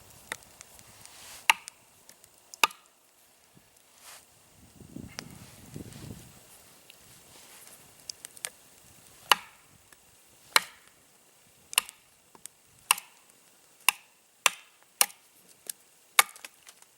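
A chopping tool strikes a hard piece of wood again and again, sharp impact cracks at irregular intervals, picking up into a quicker, steadier series toward the end, with a brief low rustle between blows.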